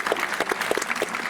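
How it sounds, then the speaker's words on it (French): Audience applause at a Russian festival presentation in Marseille, a steady, dense clapping from a crowd filling the short clip. "merci pour cet applaudissement"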